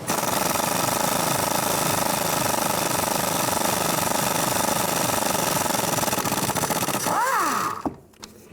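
A 13mm socket on a power tool spinning off a rear sway bar link nut on a 2009-2017 Chevy Traverse, a loud continuous rattling whir lasting about seven seconds before winding down and stopping.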